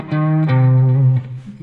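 Distorted electric guitar solo, sustained thick held notes with a bright buzzing edge, loud and close, one long bent tone sliding into another.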